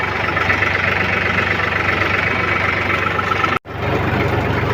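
A tractor engine idles steadily on a farm in the early morning, a loud, constant low rumble that runs without a break until a brief dropout near the end.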